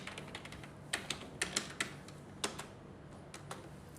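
Keys tapped on a computer keyboard while entering a search query: a sparse, irregular run of light clicks with short pauses, close and fairly quiet, no talking.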